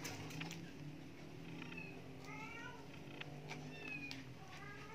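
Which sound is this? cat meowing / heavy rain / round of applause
cat meowing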